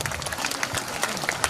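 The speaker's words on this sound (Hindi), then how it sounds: "जोर जोर से हमें ताली बजाए दो आप" A brief burst of crowd clapping at a priestly ordination ceremony, scattered and moderately loud, with no talking.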